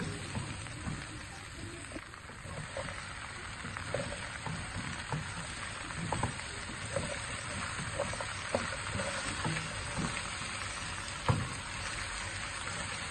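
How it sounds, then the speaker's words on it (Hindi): A kilo of okra frying with softened onions while being stirred, a continuous close crackling sizzle with scattered scraping and clicking from the spoon. "अब मैं इसमें 1 किलो भिंडी शामिल कर रहा हूँ। इसको 1 से 2 मिनट के लिए अच्छी तरह मिक्स कर लेंगे।"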